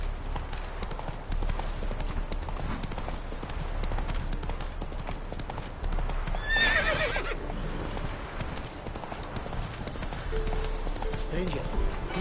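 Roach the horse in The Witcher 3 clip-clops steadily throughout with a whinny partway, while a voice speaks over the hoofbeats.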